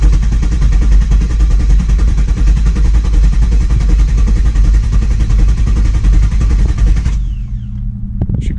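A Camaro SS engine cranks on its starter without firing, the accelerator floored to cut the injectors. A loud, steady, churning drone runs close up for about seven seconds, then stops abruptly.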